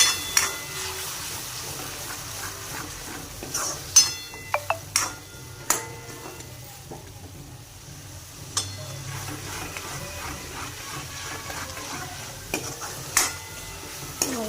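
Tomato paste cooking in a pan for pav bhaji, a soft steady sizzle beneath repeated stirring clicks and scrapes of a spoon against the pan.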